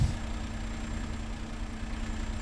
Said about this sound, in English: Listen to the sounds of the engine for a minute.